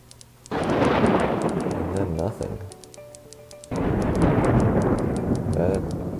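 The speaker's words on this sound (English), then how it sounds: "That thunderstorm's really letting loose now." A thunderstorm in the WorldBox game sends heavy rumbling bursts over a sea, two long loud thunder swells separated by a brief lull, with a voice talking over them.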